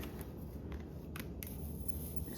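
Scissors snip through zipper tape while sewing a small pack, giving a few brief close crisp cuts over a quiet steady background.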